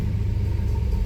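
Car engine just started after tuning, settling into a steady low rumbling idle, loud and close, with no talk.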